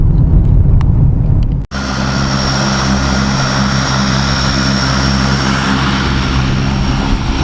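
A loud, steady aircraft engine drones at the Grand Canyon airport, where sightseeing helicopters and planes operate, holding an even tone with a brief dropout early on and no talk.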